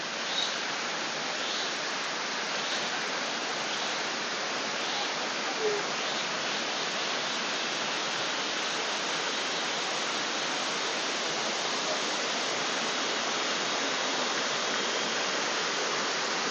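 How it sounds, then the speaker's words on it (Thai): Tat Mok waterfall in Phetchabun, Thailand, flowing down: a steady, broadband roar of falling water, loud and close, unchanging throughout. "สายน้ำตกนะครับที่ไหลลงมา"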